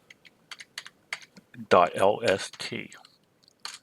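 Clicky computer keyboard keys tap out a filename in short bursts, with someone speaking briefly over the typing in the middle.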